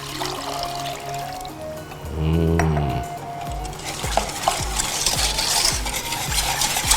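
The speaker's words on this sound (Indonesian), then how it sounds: "aduk-aduk dengan whisking" Whisking a pudding mixture of sugar and gelling powder in a bowl, with steady repetitive stirring and scraping close by, punctuated by a brief pouring or trickling burst and light clinks of the whisk against the bowl.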